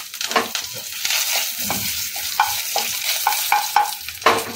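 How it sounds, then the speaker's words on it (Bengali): Curry leaves dropped into hot oil with cumin seeds crackle and sizzle steadily, with repeated sharp pops and spatters close by. "কারি পাতাটা দিলে তো একটু ফাটবে, সরে যেতে হবে।"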